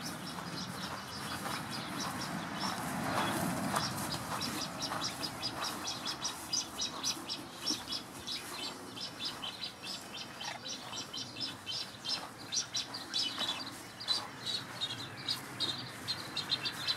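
Birds in an aviary at a bird-keeping facility chirp and call in quick, repeated bursts that carry on throughout over a soft, steady background hum.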